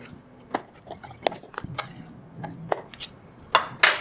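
A spoon clinks and scrapes against a bowl while a sardine fish ball mixture is stirred, giving irregular light taps and a few louder knocks near the end.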